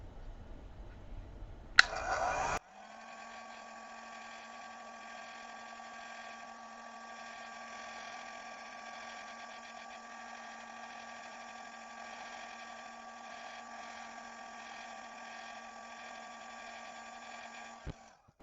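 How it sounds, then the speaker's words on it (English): After a click, a hair dryer on low heat switches on and blows with a steady, even whirring hum that runs unchanged for a long stretch before cutting off. "I'm going to turn the blow dryer back on again."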